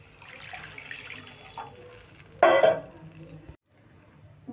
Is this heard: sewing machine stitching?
no